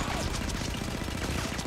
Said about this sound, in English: They are shooting.